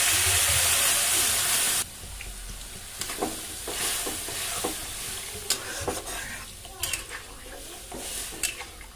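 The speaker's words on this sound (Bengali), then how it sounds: "এবারে জল দেওয়া হচ্ছে, পরিমাণ মতো জল দিয়ে দেওয়া হচ্ছে" Water poured into a hot cooking pot of khichuri with turmeric starts with a loud, steady hiss that cuts off after about two seconds, followed by bubbling sizzle and intermittent scraping and knocks of a stirring spoon.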